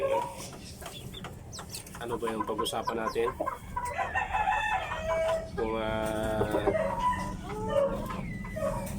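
Roosters crow loudly nearby, with a long drawn-out crow midway, while hens cluck around them and someone talks intermittently underneath.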